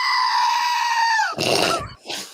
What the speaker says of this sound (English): I think it's from Mikey the Goat.